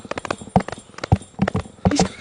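Two plunger cups are beaten against a man's chest to imitate horses racing on a track, giving rapid hollow clip-clop thumps in galloping bursts, loud and close, with some voice mixed in.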